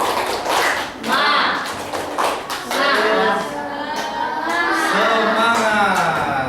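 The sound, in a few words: class doing a rhythmic spirit clap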